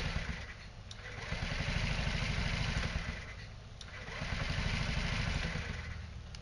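A scooter engine with a top-of-carb hydrogen injection setup is cranked without hydrogen, giving a loud rumbling, clattering churn that rises and falls in two long surges without catching.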